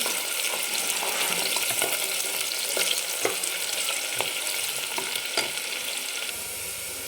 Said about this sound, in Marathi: चांगलं याला गुलाबी कलर येईपर्यंत आपल्याला छान असा परतून घ्यायचा आहे तेलावर त्याला परतून घेते